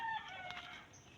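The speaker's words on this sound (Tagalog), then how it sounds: "Uy, may chicken oh. Oh, chicken." A rooster crows outdoors on a farm in the Philippines, a single harmonic crow fading over about a second, moderately loud with background noise.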